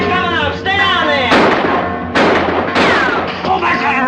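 Gunfire from guns in a Western-style standoff, several sharp loud shots bursting out over busy background music and voices, spaced roughly a second apart.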